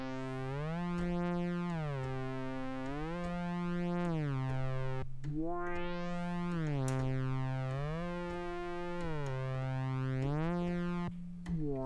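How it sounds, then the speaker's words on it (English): Arturia Modular-V software synth voice whose envelope keeps refiring, a sustained harmonic tone swelling and gliding in repeating cycles of roughly two seconds, loud and continuous with brief gaps as each envelope restarts. "can hear the envelope coming to an end, but then it immediately refires."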